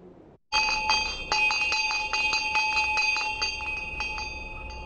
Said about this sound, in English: The free senior high school bells have rung, and they are still tolling across the country